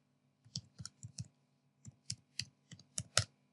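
Keys tapped on a computer keyboard in two short bursts while a keyword is entered, crisp close clicks with a brief pause between groups.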